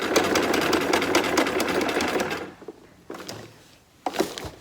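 A sewing machine stitching tent fabric, running in a fast rhythmic whir for a couple of seconds and then stopping, followed by a few short bursts and handling knocks up close.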